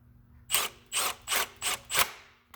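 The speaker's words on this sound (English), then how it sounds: "you don't have to go really crazy while you tighten this bolt up" A size 10 bolt is tightened on the EVAP purge valve of a 2008 Chevy Impala, giving five short, evenly spaced ratcheting strokes up close, each a crisp burst of clicks, with no talk.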